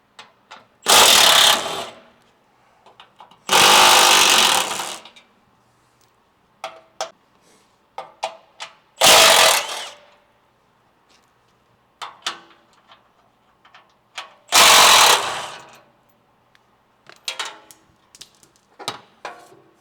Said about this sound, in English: Next, we're going to remove the factory skid plate, which is held on with 4 12mm head bolts.